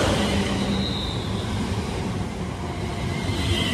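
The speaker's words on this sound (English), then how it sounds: "Here comes the 1638 London Northwestern Rail service to Birmingham New Street via Northampton from London Euston." A London Northwestern Railway Class 350 electric train arrives at Milton Keynes Central, a loud, close, steady rumble of wheels on rails with a faint squeal of wheels.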